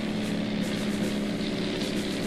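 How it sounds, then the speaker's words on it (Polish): A German torpedo boat's engine in the flight combat game Wings of Honour gives a steady, unbroken motor drone with a low hum, continuous and fairly loud throughout. "Niemiecka łódź torpedowa."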